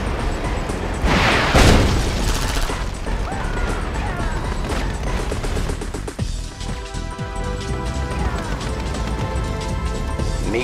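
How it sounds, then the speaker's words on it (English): Airstrike explosions in Red Alert 2 & Yuri's Revenge: a heavy crash and boom early on, then continuous loud rumbling blasts and battle noise throughout. "Airstrike confirmed."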